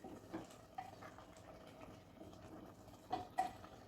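Carrot halwa simmering with milk in a pan is stirred by hand, giving soft scraping and gentle liquid sloshing with a couple of louder spoon knocks near the end, quiet and close with no talking.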